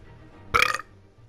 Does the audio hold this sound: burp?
yes